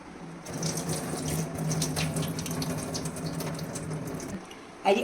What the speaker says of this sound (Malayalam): ഇനി അരി അരിച്ചിടുക, വെക്കുക.